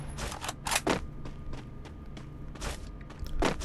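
Footsteps in the Free Fire video game, a few sharp thudding steps in quick clusters, fairly close, with quiet gaps between them.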